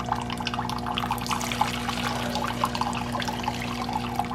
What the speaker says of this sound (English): I am going to pour this into Cheer Bear